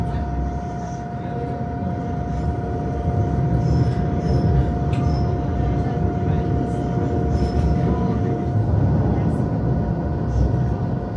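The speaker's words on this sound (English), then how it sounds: "So we have made it on the train." Steady low rumble of a Swiss train rolling along the tracks from Lucerne to Bern, a continuous dense drone with faint squeaks and rattles, heard from inside the carriage.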